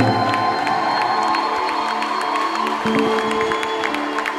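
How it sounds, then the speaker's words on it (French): A church congregation cheers and applauds together, a dense, loud crowd wash of claps, whoops and shouts that holds steady from start to finish. "On peut les encourager par les applaudissements."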